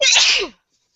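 A single loud, close sneeze bursts out sharply and fades within about half a second, followed by silence.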